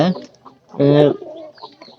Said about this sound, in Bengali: অনেকদিন যাবত এই মুরগিটা কুইসা হয়েছে